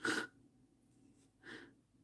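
A sharp, breathy sneeze bursts out at the start, followed about a second later by a second, softer sneeze-like burst against a quiet background.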